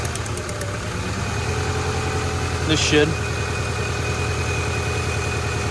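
A Honda Accord engine idles roughly with a dead cylinder, giving a steady low, uneven pulsing rumble up close, while a person talks briefly over it.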